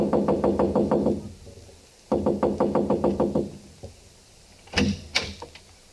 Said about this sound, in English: So I just kept knocking and knocking.